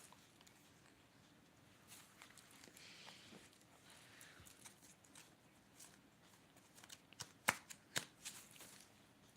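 Cards are shuffled and laid down in a quiet room, faint soft riffles and rustles at first, then several sharper snaps and taps clustered near the end as cards hit the surface.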